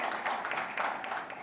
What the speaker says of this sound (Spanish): dale un aplauso a Cristo el Señor